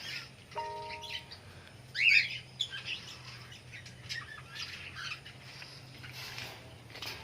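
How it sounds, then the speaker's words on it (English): Parrots and other caged birds chirp and squawk at a castle resort in Courtallam, with scattered sharp calls, one louder squawk near the start, and a soft continuous hum underneath. "The chirping of the birds keeps you very cheerful all through the day."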